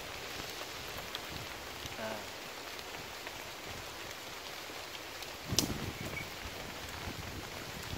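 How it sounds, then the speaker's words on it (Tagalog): Rain falling during a mountain hike on the Mt. Malarayat range, a steady dense hiss of drops with one brief louder rustle or splash midway, no voices. "Basang-basa sa ulan."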